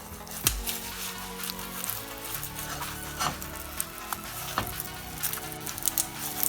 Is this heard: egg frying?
yes